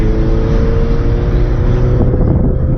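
A Chevrolet C10 truck pulls away for a cruise, its engine a loud, steady rumble with low-pitched drone and some rising rev throughout, no talking over it.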